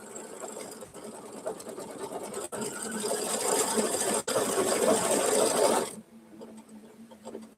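An embroidery machine stitches out a detailed design in a fast, steady mechanical whir with a couple of brief pauses, then stops and leaves a quiet hum near the end.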